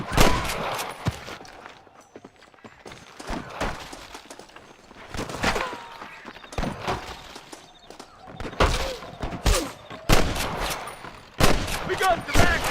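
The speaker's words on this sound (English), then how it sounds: "I can hear more gunshots." Bursts of gunfire in Red Dead Redemption crack out in irregular volleys, some rapid and overlapping, with voices shouting in between the shots.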